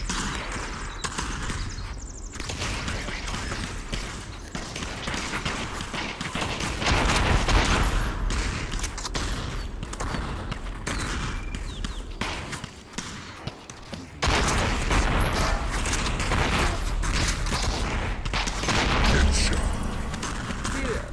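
Gunshots go off in a VR shooting video game, sharp repeated reports mixed into a dense, loud game soundscape, with a sudden louder shift partway through.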